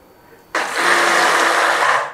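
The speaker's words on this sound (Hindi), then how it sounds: "अभी आप देख सकते हो इसमें हैंड ब्लेंडर भी ठीक से नहीं घूम रहा है" A hand blender whirs through thick eggless mayonnaise made with oil. After a brief quiet start it kicks in and runs as a steady, loud, close-up motor drone to the end.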